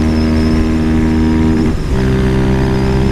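Fortuna Mini Turbo motorcycle engine running loud and close, holding a steady revving drone with a brief dip in pitch midway as it shifts gear, then pulling strongly again.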